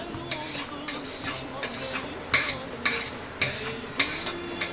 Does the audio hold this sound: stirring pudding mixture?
yes